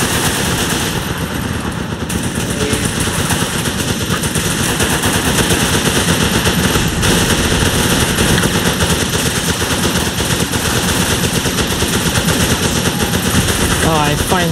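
Dense gunfire in the Running with Rifles video game: sustained machine-gun bursts and rifle shots clatter loudly and without pause over a rumbling battle background throughout.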